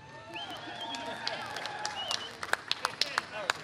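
A crowd at the outdoor 40th annual Fireworks at the Fountain event cheers and whistles, then breaks into sharp, scattered clapping that grows louder toward the end, with voices mixed in.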